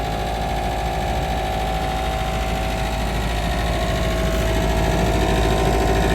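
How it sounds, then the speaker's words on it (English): Steady mechanical whir and hum of fan blades spinning inside a hay harvesting machine, constant and fairly loud, with no voices. "That noise you hear is the fan, the blades and fans spinning."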